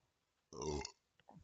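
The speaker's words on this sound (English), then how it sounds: "Burp." A single voiced burp lasting about half a second, close and fairly quiet, made during a talk about a Yu-Gi-Oh! Saber Invoker deck, followed by a brief bit of speech.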